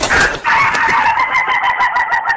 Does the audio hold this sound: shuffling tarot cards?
no